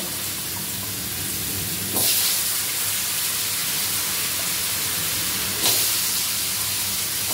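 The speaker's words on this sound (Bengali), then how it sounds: "তেল গরম হয়ে গেছে মাছের পরে আবার আমি এখন এই আলুগুলোকে ভেজে নেব।" Potatoes frying in hot oil in a fish curry kitchen, a steady loud sizzle and crackle throughout, with two brief louder bursts of spitting hiss, no talk.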